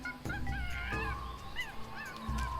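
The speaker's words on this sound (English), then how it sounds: "now I'm hearing a monkey" Game monkey chattering in Monkey Island, with short rising squeaky calls repeating over a busy bed of in-game ambience and music, fairly close and moderately loud.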